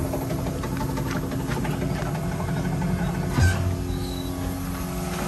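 A Massey tractor engine idling outdoors, a steady close rumbling chug with a faint mechanical whine and one brief thump partway through, with no talking.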